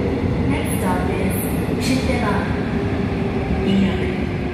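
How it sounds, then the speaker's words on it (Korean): A Seoul Subway Line 2 train, trainset D286 bound for Sindorim, pulls into Sillim station with a steady, loud rumble of wheels and motors throughout, along with platform announcements. "The train for 진도림 is approaching."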